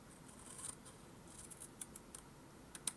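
Scissors snip through card paper for a triple-layer folded card, a few quiet, quick cuts clustered toward the end, close by in an otherwise hushed room.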